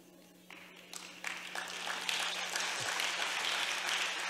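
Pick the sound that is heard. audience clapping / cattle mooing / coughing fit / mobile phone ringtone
audience clapping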